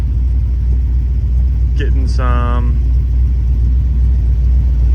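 A square-body dually truck's engine idles as a steady low rumble throughout, with someone speaking briefly over it partway through.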